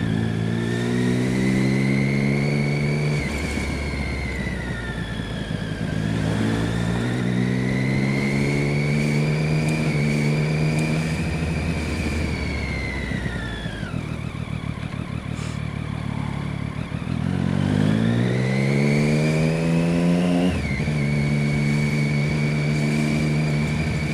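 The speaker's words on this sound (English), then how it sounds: "Sounds like this, having a motorcycle kicks ass." A motorcycle engine revs repeatedly in morning commute traffic, each close, loud rise in pitch climbing through the gears before dropping back, with a steady engine drone in between and no talking.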